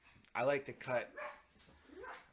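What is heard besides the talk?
dog barking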